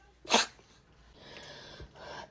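One sharp, loud sneeze bursts out near the start, then quiet breathing and faint room noise follow.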